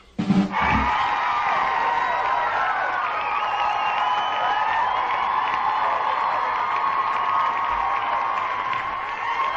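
Audience at a burlesque fan dance show cheering and applauding, a sustained wash of crowd noise and clapping at moderate distance that holds steady after a sharp start.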